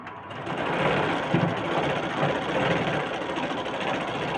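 A sewing machine runs steadily, stitching blouse fabric in a continuous, even mechanical whir close by, with no pauses and no talk.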